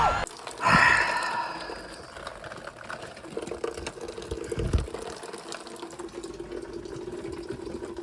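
Water gushes loudly from a tap whose cartridge has broken off inside, a sudden strong rush at first that settles into a steady hissing flow with air sputtering, close up.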